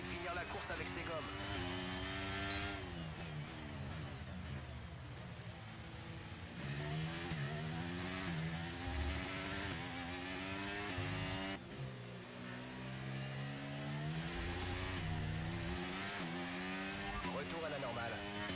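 F1 race car in the F1 23 video game surging out of a pit stop, a loud continuous engine note climbing repeatedly through the gears, with a voice talking over it.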